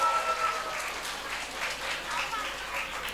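Audience applause at a school assembly at MTs Labbaika Samarinda: a steady, dense patter of many hands clapping throughout, with a voice talking over it.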